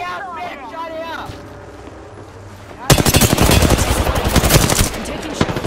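A voice speaks over quiet game ambience in Apex Legends, then heavy automatic gunfire erupts and continues loud and close in fast, dense bursts to the end.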